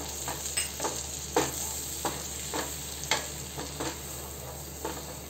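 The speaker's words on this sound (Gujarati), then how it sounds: "આપણું બટર મેલ્ટ થઈ ગયું છે, આપણે મેંદો એડ કરી દઈશું" Flour stirred into melted butter in a pan while making pesto pasta sauce: faint, steady sizzle with a series of soft scraping stir strokes at an uneven pace.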